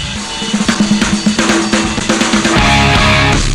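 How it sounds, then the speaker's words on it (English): Loud, dense music plays back through a mixing board, with a rhythmic pulse and full low end that swells steadily over a few seconds. "Now we can hear the music playing through the board right now."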